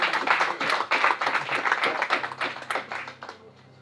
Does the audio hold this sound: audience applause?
yes